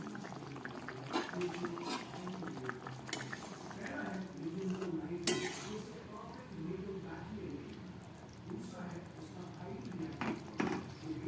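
Egg curry with potatoes simmering over a low gas flame in a pot as the lid is lifted, a soft bubbling with light clinks of the lid and utensil, all quiet and close.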